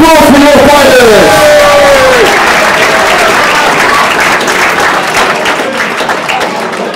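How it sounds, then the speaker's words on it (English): A crowd at a boxing club event applauds the fighters in a loud, dense burst of clapping that carries on after an announcer's voice at the start, slowly fading toward the end. "big round of applause for your fighters"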